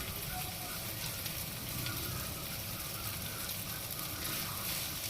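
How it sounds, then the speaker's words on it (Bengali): Thin, small-cut chicken pieces frying in a pan for street-style chicken noodles, a dense, even crackling sizzle held steadily at a low level without talk. "তো এখানে আমি 3 মিনিটের জন্য চিকেনগুলোকে ভেজে নিয়েছি।"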